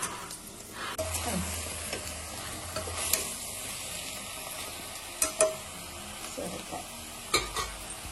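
Ginger, garlic and bottle gourd pieces sizzle and fry in a pan, with a spoon stirring and scraping now and then, plus a few sharper knocks against the pan near the end.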